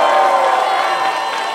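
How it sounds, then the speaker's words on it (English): A live game-show audience cheers and claps for a cannabis extracts team, a dense, loud wall of crowd noise with scattered shouts, steady throughout without a break. "Come on, clap it up for Extracts,"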